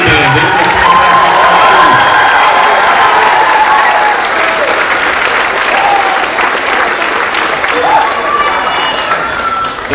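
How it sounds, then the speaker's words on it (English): Loud, dense applause from a school concert audience for a 7th grade middle school band, with cheering and crowd noise, sustained throughout. "how about another round of applause for the 7th grade band?"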